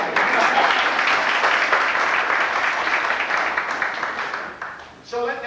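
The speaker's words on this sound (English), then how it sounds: "I think we should give Vera a round of applause." Applause from a gathered audience for Vera, continuous clapping that slowly thins and fades, with a voice starting to speak as it dies away.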